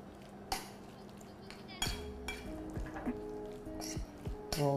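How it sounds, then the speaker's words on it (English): A potato pie mixture with herbs is stirred in a pot, with several sharp clinks of a utensil against the pan at irregular intervals over a soft, steady background. "Stir all together."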